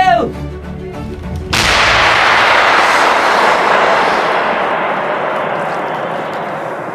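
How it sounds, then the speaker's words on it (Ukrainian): An artillery gun fires a single shell: a voice shouts just before, then one sudden, very loud blast rolls out into a long, slowly fading rumble. "Один снаряд, вогонь! Гармата! Розпакована! Постріл!"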